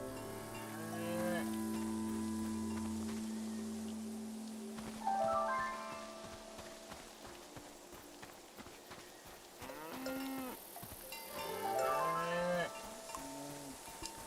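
Cows moo in a video game, several long, low lowing calls arriving one after another with gaps between, moderately close over a faint background.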